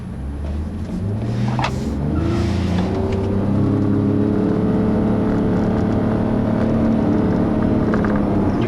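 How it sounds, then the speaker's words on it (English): A 2011 Lexus RX450h hybrid SUV revs up and accelerates with a steady rising hum and road rumble, loud and close, with no voices. "See, this car accelerates really well"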